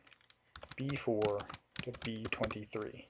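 A few computer-keyboard keystrokes entering values into an Excel 2007 spreadsheet, brief clicks sitting mostly under someone speaking clearly throughout.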